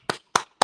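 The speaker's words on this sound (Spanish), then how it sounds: "un fuerte aplauso para el orador entonces" A few claps at a lecture of the Administrative Law Institute, three separate sharp bursts evenly spaced in under a second, close and isolated with no talk.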